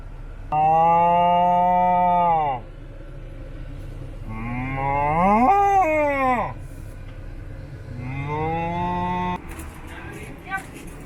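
A cow on a road near Moab moos loudly three times, long drawn-out lowing calls close by, with a vehicle engine humming underneath.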